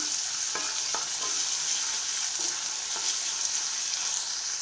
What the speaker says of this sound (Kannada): ಈರುಳ್ಳಿ ಇದನ್ನು ಚೆನ್ನಾಗಿ ಫ್ರೈ ಮಾಡ್ಕೋಬೇಕು ನಾವು